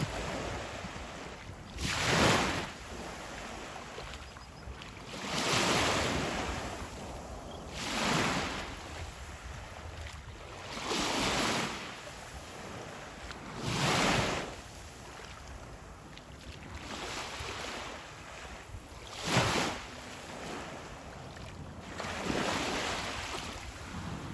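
Ocean waves break on a beach in a steady rhythm, with about eight rolling surges that swell and wash out every few seconds, moderately loud and close, with light wind and no talking.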